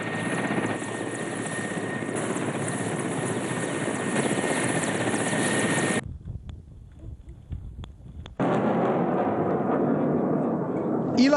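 A steady roaring drone of military helicopters landing troops fills most of the stretch, cutting out briefly to a quieter rumble before returning just as loud.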